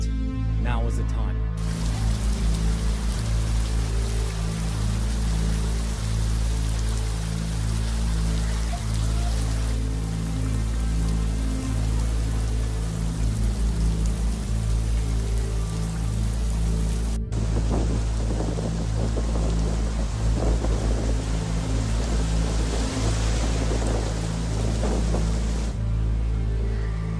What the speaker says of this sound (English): After a couple hours of non-stop rain,